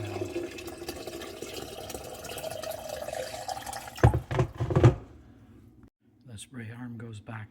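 Running water pours and splashes for a few seconds while filling a Miele dishwasher's salt container, with a short burst of louder sloshing near the end, followed by a moment of quiet and then talking.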